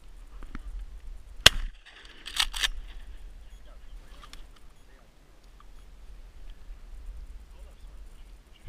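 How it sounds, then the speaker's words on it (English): Shotgun shots at ducks in a Louisiana marsh: one sharp crack followed about a second later by two quick reports, fairly faint against a quiet outdoor background, with people talking between shots. "I'm about to shoot"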